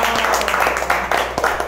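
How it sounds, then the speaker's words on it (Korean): An audience claps and cheers, with dense, even applause sustained throughout and a few sharper individual claps standing out near the end. "모두 맞았다면 박수와 함성입니다"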